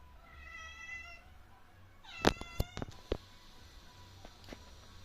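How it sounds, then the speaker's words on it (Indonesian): A cat yowls indoors, a drawn-out wavering cry followed by a few sharper meows and yelps, moderately close over a low background hum. "biasa kucing teriak-teriak"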